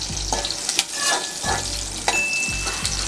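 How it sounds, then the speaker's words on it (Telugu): Green chillies, garlic cloves and cumin seeds sizzle steadily in hot oil in a pan, with stirring scrapes recurring every second or so, close and fairly loud. "ఒక 1 మినిట్ ఇలా వేయించాలండి."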